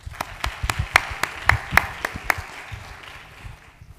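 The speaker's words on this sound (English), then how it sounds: "Let's give the applause to all the panelists." Audience applause for symposium panelists in a conference hall, a sparse, moderate patter of individual claps that thins and fades toward the end.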